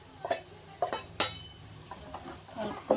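A spoon stirs salt and garlic chili powder into a pan of stuffed brinjal (gutti vankaya) curry, giving several scraping clinks and taps against the metal pot at an uneven rhythm, close and moderately loud.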